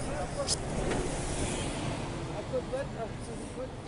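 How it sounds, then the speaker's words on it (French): Busy city street traffic in Paris, with cars and other vehicles passing at a steady, moderately distant hum and no one speaking over it. "il y a trop de circulation"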